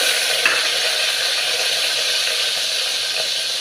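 Green chillies and broad beans (goruchikkudu) frying in a pan for a tomato curry, a steady close sizzle with bright hiss that holds evenly throughout, no voices.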